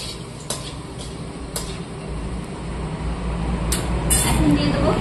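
Bay leaf, whole dried red chillies and whole garam masala tempered in hot oil in a pan, a steady close sizzle with a few sharp metallic clinks of utensils, speech faintly present in the background.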